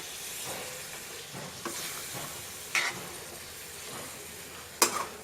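Chicken Rogan Josh is stirred in a pan with a paste of capsicum, cardamom and onion. Soft, steady sizzling runs under several scraping strokes of the spoon, ending in a couple of sharper clinks, with no voices.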